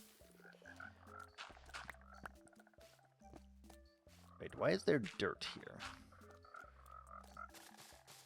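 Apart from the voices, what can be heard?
frogs croaking in a video game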